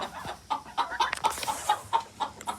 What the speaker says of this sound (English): Come on, you stupid chicken.